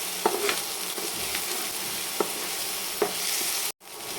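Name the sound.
onion and ginger frying in pan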